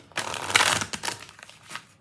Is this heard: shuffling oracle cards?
yes